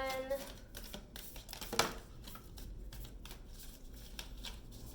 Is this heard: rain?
no